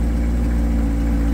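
A green 2024 Corvette C8 Stingray's engine runs at a loud, steady idle with a deep rumble, close by and without talk.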